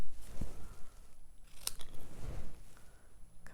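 Scissors trimming paper for a Halloween card, giving a few brief snipping crunches spaced across a close, quiet tabletop scene with no talk.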